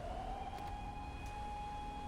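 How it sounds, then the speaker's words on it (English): Sirens wail from inside a building in a chaotic video game, a steady rising and holding tone with a higher harmonic above it over a noisy background hum, fairly distant and continuous. "Sirens are wailing from in there."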